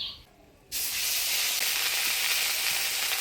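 Spices and ground onion paste dropped into hot oil burst into a loud, bright sizzle after a brief quiet moment, then keep up a steady hissing fry nearby.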